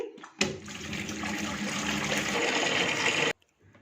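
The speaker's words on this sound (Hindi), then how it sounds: "पालक को धोने के लिए एक बड़े बाउल में पानी भर लेंगे।" Tap water pours into a large bowl for washing chopped spinach. A steady, close rush runs for about three seconds, then cuts off sharply into near quiet.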